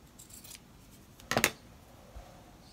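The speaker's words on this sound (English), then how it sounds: "Okay, so I'm going to trim this selvage." Scissors trimming the selvage off quilting fabric, one close, crisp double snip in the middle against a quiet room.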